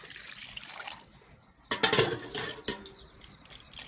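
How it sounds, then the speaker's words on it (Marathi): Cold water splashes and pours briefly into a vessel of potatoes, a short gushing burst over quiet background. "थोडंसं गार पाणी घालूया बटाट्यात"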